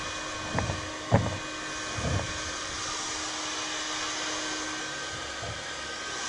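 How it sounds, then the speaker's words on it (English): A heat gun blows with a steady, loud whine and rush of air while softening a recycled composite plastic capping rail on a boat's bow, with a few dull knocks at the start. "The heat gun is used to soften the plastic, allowing it to be bent around the curve of the bow."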